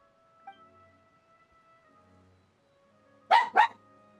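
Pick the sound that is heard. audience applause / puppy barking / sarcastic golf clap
puppy barking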